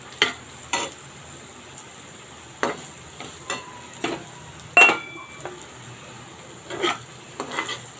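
Food frying in a pan with asafoetida powder is stirred in short bursts, with scrapes and metallic clinks of the spoon against the pan spaced irregularly over a quiet background sizzle, and nobody speaking.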